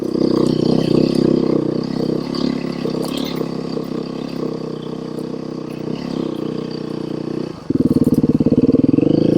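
A Beta 390 Race dirt bike engine drones steadily while riding through woods at night, with a sharper, louder throttle burst near the end and no talking.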